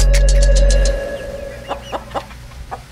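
Chickens cluck in short, scattered bursts, moderately close, just after a loud low rumble fades out.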